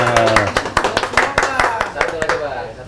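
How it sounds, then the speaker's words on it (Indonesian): A small group of people clap together beside an aquarium where discus fish are being released, a loose burst of distinct close claps lasting a couple of seconds, with voices chattering over it. "Tepuk tangan semuanya."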